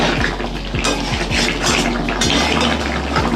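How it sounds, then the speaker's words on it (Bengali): Hot water hisses and splashes into a pan of chicken, potato and papaya, close and loud, with small knocks of metal against the pan running through it. "আর আমি পাশে গরম জল করতে দিয়েছি গরম জলটা দিয়ে দেবো"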